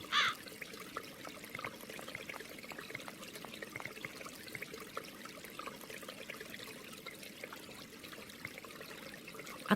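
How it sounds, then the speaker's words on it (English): Water trickles out in a constant thin flow in Runaway 3, a soft, steady dribbling with faint outdoor ambience and a distant crow-like call. "A constant flow of water is trickling out."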